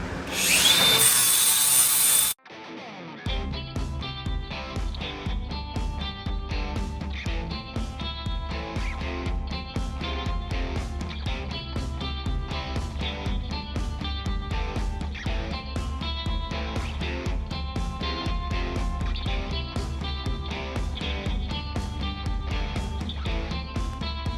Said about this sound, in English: let's just grind this down and be done with it